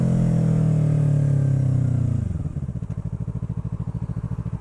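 A Yamaha R3 motorcycle being ridden, a strong engine drone under wind rush that settles into a rapid, even pulsing idle-like throb partway through, close and steady.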